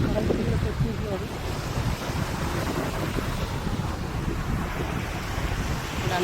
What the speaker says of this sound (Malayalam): തിരമാലകൾ അടിച്ചടിച്ച് വരുന്നു.